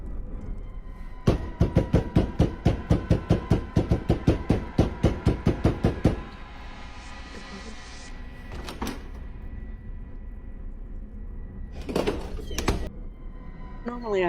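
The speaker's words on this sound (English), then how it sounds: "Who is knocking?" A rapid series of sharp knocks on a door, around a dozen evenly spaced raps over several seconds, followed by a pause with low background noise and then a few more isolated knocks.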